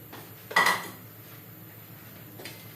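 A spoon stirs carrots and potatoes in a cooking pot of beef stripes paklay: one sharp metallic clank and scrape against the pot, then a quiet lull and a faint second knock near the end.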